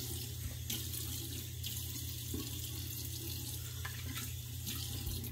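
An upstairs bathroom sink faucet running, a steady continuous hiss of flowing water heard close and alone, with no talk.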